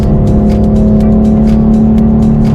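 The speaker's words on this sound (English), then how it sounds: "I'm just gonna go ahead and grab a downshift, switch gears here, change lanes." A BMW M4 Competition engine drones loud and close from inside the car as the driver grabs a paddle-shift downshift while changing lanes, a steady deep roar throughout.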